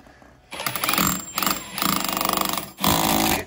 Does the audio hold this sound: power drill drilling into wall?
yes